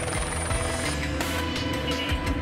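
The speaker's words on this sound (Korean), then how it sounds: "제작진은 헬기를 타고 최근 뜨고 있는 수도권 로또 분양 후보지를 둘러보기로 했습니다." A helicopter in flight gives a steady, loud rotor drone with rhythmic chopping throughout, heard alone without talk.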